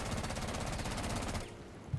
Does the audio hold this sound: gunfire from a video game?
yes